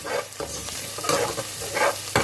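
Onions frying in oil in a pot, a close, continuous sizzle broken by bursts of stirring and scraping, with no voices.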